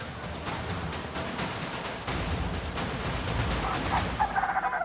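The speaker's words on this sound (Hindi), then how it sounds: "वहाँ पर जो मजमा जमा था, जो भीड़ जमा थी, वो असल में इन मुर्गों की लड़ाई देख रही थी।" Roosters fighting in a cockfight on an island before a gathered crowd, with rapid flapping and scuffling bursts over steady crowd noise, continuous and fairly close throughout.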